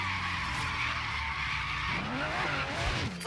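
Aston Martin V12 Zagato tyres skidding through a tight drift in Forza Horizon 3, a continuous loud screech over steady engine drone that climbs and wavers in pitch toward the end.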